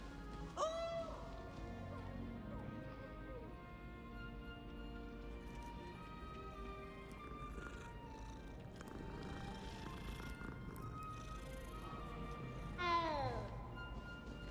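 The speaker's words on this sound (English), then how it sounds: "That was an interesting meow." A cat in the video game Hogwarts Legacy meows several times, with a clear rising-falling call early and another near the end, over a steady layer of game music and ambience.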